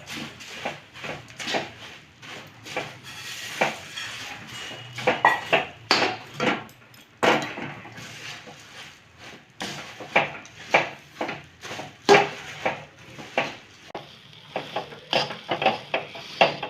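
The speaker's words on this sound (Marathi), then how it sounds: "आता आपण चुरमुरे घालून घेऊया हे पटपट हलवून घ्यायचं" Puffed rice tossed and stirred quickly in a pan while making laddu: a steady run of close, rapid scraping and clattering strokes of spoon against pan, busy and irregular, with no voices.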